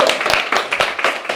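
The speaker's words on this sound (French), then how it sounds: "Un tonnerre d'applaudissements" Applause from a crowd, steady clapping with uneven bursts, fairly loud and close, with no voices over it.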